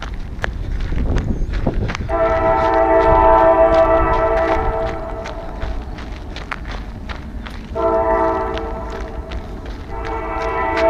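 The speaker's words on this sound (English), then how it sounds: "The train." A train horn blows in two long blasts with a short gap between them, over a constant rumbling and clattering of a passing train, heard from a roadside near Darlington, Pennsylvania.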